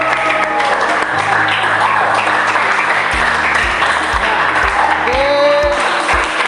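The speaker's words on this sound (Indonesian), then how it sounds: "kita berikan aplaus dulu untuk kelompok-kelompok yang telah bertanya" Audience in a classroom claps for the student groups who asked questions, a steady, dense applause running through the whole stretch, with a teacher's voice briefly speaking at the start.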